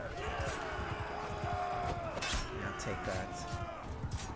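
Hoofbeats of a horse galloping in the video game Mount & Blade Bannerlord, rapid thudding footfalls under game effects and a player talking briefly.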